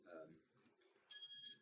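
A bell-like ding used as a pin drop sound effect rings out loud and sustained after a brief murmur of voices and a short pause.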